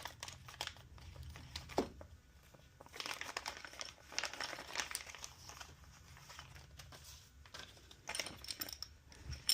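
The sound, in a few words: opening the Starlink wedge mount hardware package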